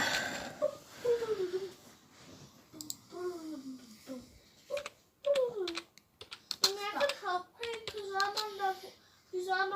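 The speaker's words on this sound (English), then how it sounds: "I'll get my RGB keyboard." Keys on an RGB computer keyboard click in quick, irregular taps while a person talks over them, the clatter near and fairly soft beneath the voice.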